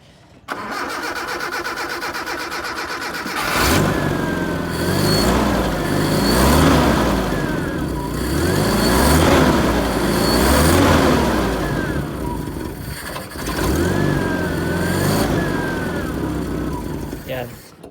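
A Toyota 4K engine with a carburetor and timing fault cranks, catches and runs at an uneven idle, loud and close, with voices faintly under the running engine.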